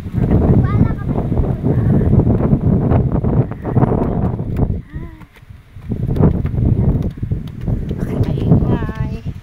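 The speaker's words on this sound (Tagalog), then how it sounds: "malakas ang hangin" Strong gusts buffet the microphone in loud, rumbling bursts at a hillside nature park in San Jose City, Nueva Ecija, with people talking throughout.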